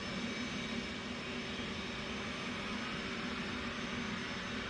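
An F/A-18 jet engine starts cranking in the DCS flight simulator as a steady, loud, even whine and roar that holds constant throughout with no talking.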